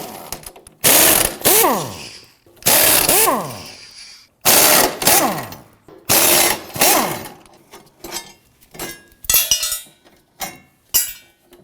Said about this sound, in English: Go ahead and use your 13mm and remove the bolts.